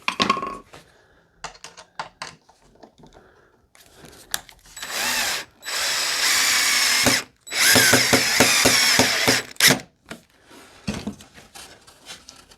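Power drill driving a number 8 by 1.5 inch wood screw while assembling a P-51 pedal plane kit, several short bursts of motor whine separated by clicks and handling noises, close and loud.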